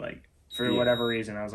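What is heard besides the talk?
beeping alarm in a basement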